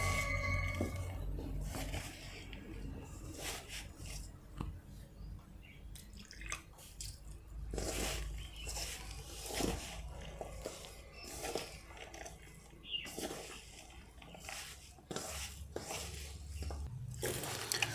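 Mushroom pakora batter mixed by hand with small splashes of water, wet squishing and dripping sounds in an uneven rhythm, close and fairly quiet.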